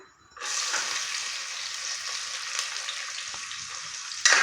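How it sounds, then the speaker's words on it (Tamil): Onions hit hot oil for vegetable biryani, and a sudden loud sizzle bursts in after a near-silent start. A steady bright hiss follows, then a sharper spurt near the end. Nobody talks over it. "வெங்காயம் சேர்த்தாச்சு. வெங்காயம் கொஞ்சம் ஃப்ரை ஆகணும்."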